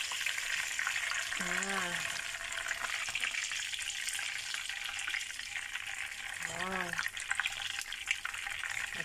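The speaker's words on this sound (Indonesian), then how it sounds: "ini lanjut kita goreng yang tahap kedua ya teman-teman ya" Chicken wings sizzle and crackle steadily in hot oil during a second round of deep frying, a constant close hiss with a brief spoken word over it.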